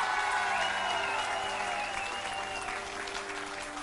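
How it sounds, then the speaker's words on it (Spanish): Studio audience applause on a Spanish TV show, a loud, steady roar of many hands clapping, with a musical tone underneath, fading slightly toward the end. "¡El aplauso para ella!"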